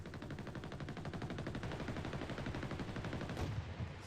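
An MG34 machine gun in a World War II video game fires a sustained rapid burst, its dense rattle of shots holding steady and loud throughout.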